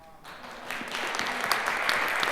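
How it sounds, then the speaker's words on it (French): An audience at an entrepreneurship panel discussion breaks into applause, starting quietly after a brief pause and building into steady, moderately loud clapping. "on peut nous applaudir"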